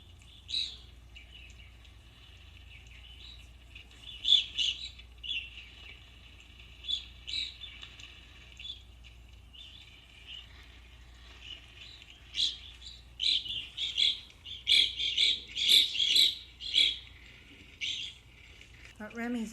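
Small birds chirping and tweeting up in a tree, scattered high calls that come in short bursts and grow busier toward the end, moderately close over a low steady hum.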